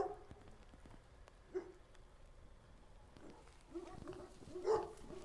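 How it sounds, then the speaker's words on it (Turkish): A dog barks a few times in the distance, faint and spaced out against quiet outdoor background noise in a residential neighborhood of Didim, Turkey. "Yan tarafta bir köpek var. O da havlayıp duruyor."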